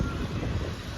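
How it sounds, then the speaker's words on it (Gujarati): Strong wind blows steadily outdoors, a dense, continuous buffeting rumble hitting the microphone for the whole second, with no voices clearly heard. "પવન આવે બેફામાં અહીંયા"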